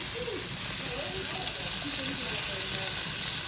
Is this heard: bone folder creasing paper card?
no